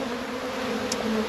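Honey bees buzz steadily around a New Zealand beehive fitted with a pollen collector, a continuous close droning hum with no break and no voices.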